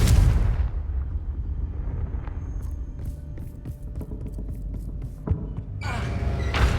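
Blasting curse explosion in Hogwarts Legacy: a heavy booming blast opens, crackling debris and rumbling follow, and a second burst arrives near the end.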